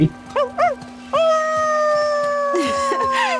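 A human voice imitates a wolf howl while The Last of Us Part 2 is being played: a few short rising yips, then a long, loud, sustained howl that falls in pitch at the end, close to the microphone.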